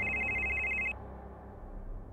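A cellphone rings with a fast, trilling electronic tone for just under a second and then cuts off, leaving low background hum.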